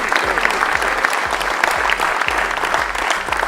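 An audience at a French amateur football awards evening applauds the regional vice-president for sports, steady dense clapping from many hands, sustained and fairly close.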